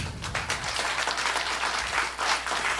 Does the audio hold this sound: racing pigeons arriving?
no